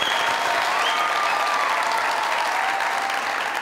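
Studio audience at a Pakistani comedy talk show bursts into loud, dense applause that holds steady and unbroken throughout, with no voices standing out.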